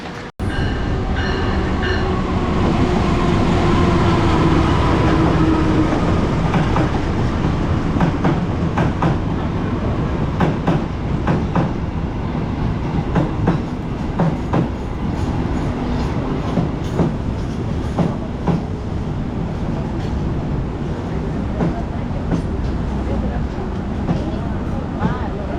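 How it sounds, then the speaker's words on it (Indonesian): Steady rumble of a KA Sawunggalih passenger train under way, loud and close with continuous wheel and track noise and faint clicks, with some talk under it. "Akhirnya naik kereta lagi setelah sekian lama."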